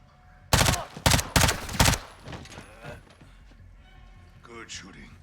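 Several sharp bursts of gunfire in a video game sound close and loud near the start. Fainter mechanical clatter follows, and a voice speaks toward the end.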